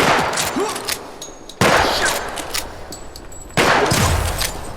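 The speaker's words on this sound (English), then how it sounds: "the one thing I can say about this gun is that it does shoot bullets" Three sharp, loud gunshots from a test rifle chambered in 5.56 and 30-06, evenly spaced about a second and a half apart, each a close crack followed by a decaying ringing echo.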